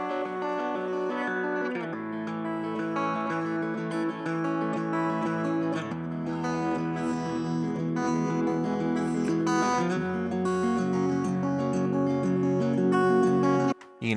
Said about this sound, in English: the filter kind of comes off of that guitar and it opens up quite a bit